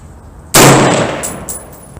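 A single sharp, loud 6.5 Creedmoor AR-10 rifle shot bursts out abruptly after a quiet lead-in, then decays over about a second with faint metallic pings trailing at the end.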